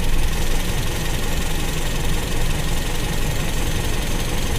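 A Toyota Kijang carburetor engine idles during an adjustment of the idle air and fuel setting. The engine gives a loud, steady rumble with slight unevenness and vibration throughout.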